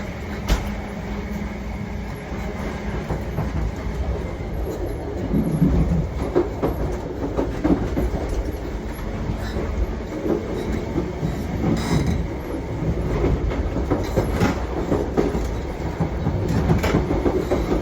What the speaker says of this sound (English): Just enjoy the sound of the Mark IIIs going over the points.